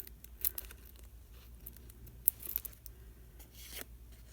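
Scissors snip through tape for a craft frame in a few quick, quiet cuts, with small crisp clicks and rustles spaced over a few seconds and no talking.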